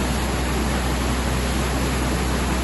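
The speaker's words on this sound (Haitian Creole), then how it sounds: "L'eau continue à entrer en quantité dans le jardin paysan." Water pours steadily through an irrigation canal into a peasant garden, a dense, unbroken rushing hiss that stays loud and close for the whole stretch.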